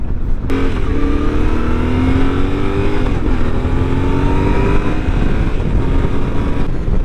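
A 2024 Yamaha Tenere 700 motorcycle cruising city streets at about 55 mph, engine droning loud and close with a rising and falling pitch as it shifts, under constant wind and road noise.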